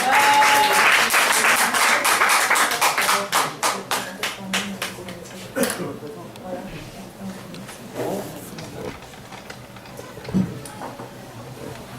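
Loud applause from a crowd fills the opening seconds, then tapers off into scattered claps and faint room noise.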